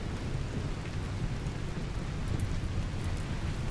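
Steady rain in the game RimWorld, a dense, even hiss of falling drops with a low rumbling undertone, continuous and unbroken with no voices.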